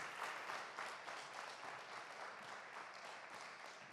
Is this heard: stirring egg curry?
no